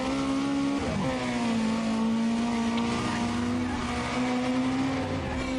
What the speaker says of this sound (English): let you listen to the sound of the engines working